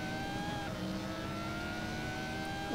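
An LMP prototype race car engine drones on a circuit in a racing game, a steady whine with shifting tones that changes pitch as it shifts, held fairly quiet and continuous.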